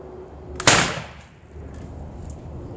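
A potato cannon fires a single sharp shot at a seltzer can, one loud outdoor bang that trails off into quiet ambience with no talk.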